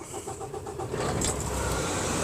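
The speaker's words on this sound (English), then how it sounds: "And now we can start the truck." A Kenworth truck engine turns over and catches, settling into a steady, close diesel idle after about a second, with no voices over it.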